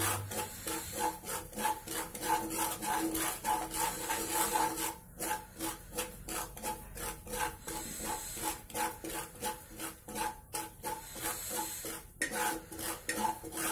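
Semolina being fried in a pan for moong dal halwa is worked with a spoon, a steady rhythmic scraping and rubbing against the pan bottom repeating continuously, close and moderately loud with no talking.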